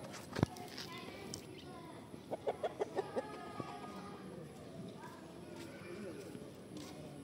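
A chicken clucks in a quick run of short, evenly spaced clucks, moderately close, while people talk over a busy outdoor background.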